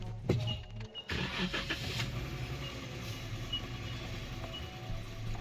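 A Jeep engine cranks briefly, catches with a sharp start and settles into a steady low idle rumble at moderate volume, with no one talking over it.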